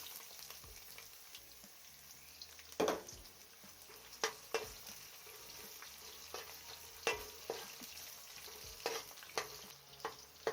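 Ginger tipped into garlic that is browning in hot oil in a pan, with a steady close sizzle and occasional sharp scrapes and taps as it is stirred.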